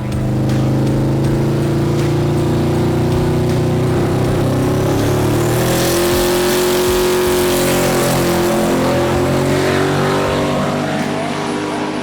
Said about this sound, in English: The Comp Cam's Dream Team left a little lazy, but it came up on boost, making it the third car to make a 9-second pass.